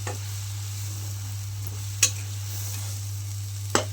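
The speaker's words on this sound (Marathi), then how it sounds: "गॅस थोडासा बारीक करून आपण आता हे हलवून घेऊ छान असं" Chapati pieces in a pan on low gas sizzle faintly under a steady low hum, with two sharp utensil clinks spaced apart as they are stirred.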